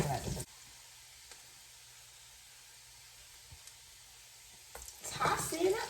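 Garlic sizzling in a frying pan for pancit noodles: a loud hissing burst at the start, a quiet stretch of low background noise, then the sizzle swells again loud and close at the end.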